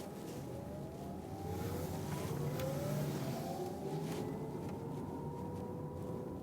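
Porsche Taycan 4S electric car cruising fast on a German Autobahn, heard from inside as a steady roar of road and wind noise with a faint rising electric motor whine, no engine note.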